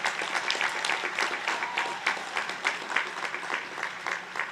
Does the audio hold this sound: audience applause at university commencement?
yes